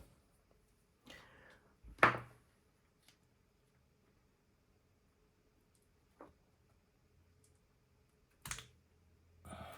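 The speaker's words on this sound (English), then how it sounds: "I'm gonna try and push it more with this flathead screwdriver" A flathead screwdriver pushes a part into a HORI Fighting Stick Alpha Tekken 8 Edition, giving a few sparse, sharp plastic clicks and scrapes separated by near silence.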